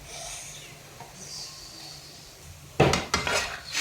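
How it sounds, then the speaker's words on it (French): Food is stirred in a pan with metal utensils, giving a few sharp clinks and scrapes near the end after a quiet stretch of low kitchen background. "Et là, je mélange un peu."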